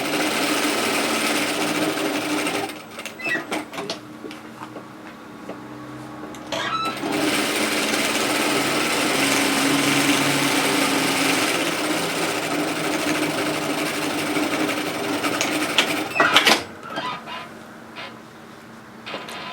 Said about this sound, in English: just come to the next notch and start sewing again